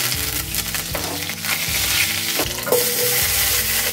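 Mustard seeds and cumin spluttering in hot coconut oil, a dense continuous sizzle with scattered small pops and crackles throughout, close and fairly loud with no talking.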